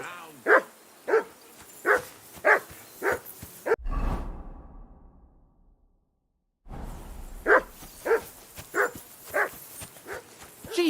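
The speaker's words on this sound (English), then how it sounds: "Henry, that barking's driving me nuts" A dog barking in the video game Kingdom Come: Deliverance 2, a run of loud, evenly spaced barks close by, broken by a whooshing gap of near silence before the barking resumes.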